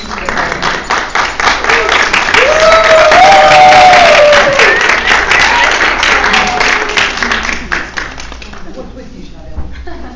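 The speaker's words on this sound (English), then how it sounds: "I just want to give Joel a round of applause" An audience at a school district press conference gives a round of applause, loud sustained clapping mixed with cheers and crowd voices that swell and then fade toward the end.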